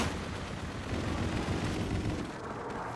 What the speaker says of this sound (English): Allied Trinity rocket arriving on site.